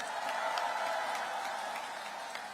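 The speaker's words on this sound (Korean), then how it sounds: "박수 한번 쳐주세요." A crowd claps in applause at an outdoor political campaign rally in Paju, South Korea, a faint, distant, steady patter of many hands that tapers slightly toward the end.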